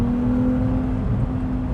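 Ferrari 296 GTS engine pulling hard with the top down in third gear, a steady droning tone over road rumble with a slight shift partway through, loud and close.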